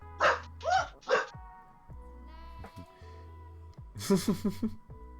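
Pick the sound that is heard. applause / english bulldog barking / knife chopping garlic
english bulldog barking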